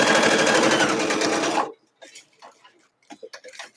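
A sewing machine runs steadily while stitching a test seam for quilting, loud and close for about a second and a half before stopping abruptly. A person then talks over the quiet.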